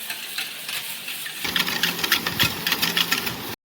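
Eggs and sugar being whisked by hand in a bowl, a quick, steady rhythmic clatter and scraping that starts softer, then grows louder and busier before cutting off abruptly.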